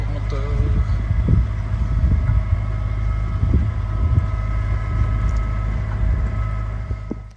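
A sailboat's auxiliary motor runs steadily at sea off Greece, a continuous low engine hum with faint tonal whine throughout, wind noise mixed in, no talking.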